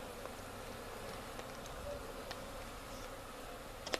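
Honeybees being shaken down into a hive during a package installation give a steady, continuous buzz that fills the background, with a few brief louder passes close by and no talking.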